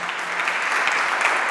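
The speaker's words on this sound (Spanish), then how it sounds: "porque no le dan un fuerte aplauso a Marcela" Dense, steady applause from a church meeting audience for the sign language interpreter, loud and unbroken with no talk over it.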